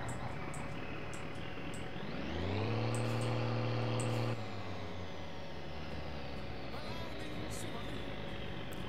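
A truck engine in the driving game My Summer Car cranks and turns over, its steady drone rising, holding, then settling into a lower idle, with a voice speaking over it.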